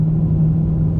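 Pontiac G8 fitted with knock-off mufflers, accelerating at quarter throttle: a steady, close, low exhaust drone that holds an even rumbling tone throughout, with no talk over it.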